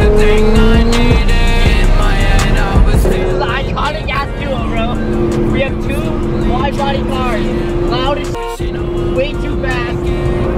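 Loud wide-body Nissan GT-R driving on a public road, its engine droning and rising steadily at close range, with people talking over it throughout.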